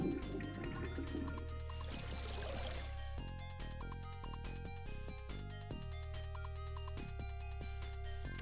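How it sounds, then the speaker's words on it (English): A flusher in The Legend of Kyrandia Book Two video game drains liquid with a quiet gurgling pour, set under tinkling, sustained game music. "I push the flusher, it's all go away."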